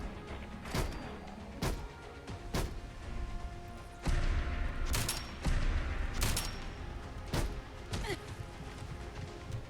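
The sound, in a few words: Smith and Wesson R8 revolver shots in Fallout 4 video game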